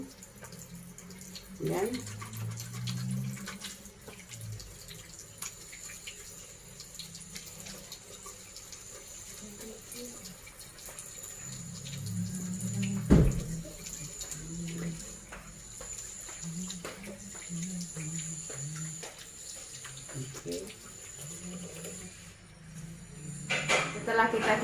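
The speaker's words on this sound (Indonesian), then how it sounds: "Kita cuci tangan 6 langkah ya, kita kemudian duduk, kita kasih sabun" Tap water running into a sink during six-step handwashing before a contraceptive injection, a steady splashing stream with occasional clatters, under continuous speech.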